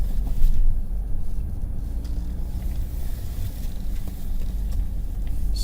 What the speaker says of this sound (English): we're going to pull in and get some gas.